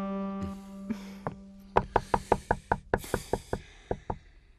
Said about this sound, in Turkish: Kapıyı çalacaktım değil mi?